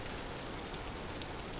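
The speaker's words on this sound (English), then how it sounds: "Oh, it's raining" Steady rain falling in the video game Vintage Story, a dense, even hiss of drops on surfaces, continuous and unbroken, with no voices.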